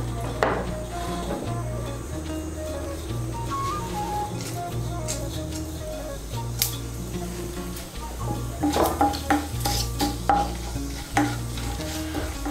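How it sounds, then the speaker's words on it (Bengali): Whole garam masala of cardamom, cinnamon stick, clove and cumin seeds with bay leaf sizzling in hot oil, stirred with repeated scraping and clinking against the pan over a steady frying hiss. "ফোড়নটা দিয়ে একটু নাড়াচাড়া করে নেব।"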